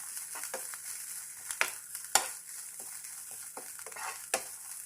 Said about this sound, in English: Add 2 tablespoons grated coconut and add oil and roast it.